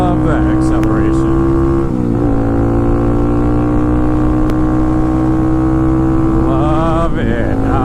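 A modded Kawasaki KLX300SM motorcycle accelerating hard, its loud engine note climbing steadily through the gears with brief shift dips, close to the mic under wind, with voices talking over it.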